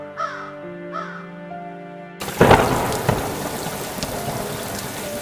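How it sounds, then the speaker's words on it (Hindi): Cartoon-style thunderstorm effect with rain: after a stretch of calm music, a loud thunderclap bursts in, followed by rumbling and steady rain noise, with a second crack of thunder. "एक रात भयंकर आंधी और तूफान आया।"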